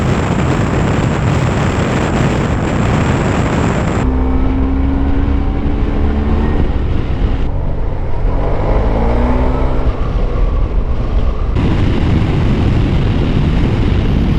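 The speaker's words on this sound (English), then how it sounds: "Time to take the bike out for a spin and see how she handles." Yamaha TMAX 500 scooter ridden on wet roads after snowmelt, a steady close engine drone with wind rush and shifting engine tones as it speeds up and slows, continuous throughout with no talk.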